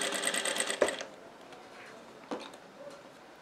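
Sewing machine stitching along the edge of fabric for a small double glasses pouch: a fast, close mechanical whirr of stitches for about a second, then stopping, followed by faint clicks and handling noise.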